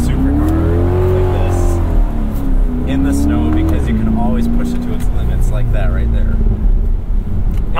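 A Chevrolet Corvette C8 supercar accelerates hard on snow, its engine droning loud and steady with rising and falling pitch throughout, while people talk over it.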